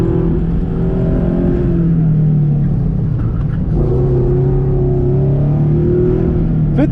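A Subaru FRS drives an autocross course, its engine loud and close from inside the car, rising and falling in pitch as it revs through gears and corners, with no talk.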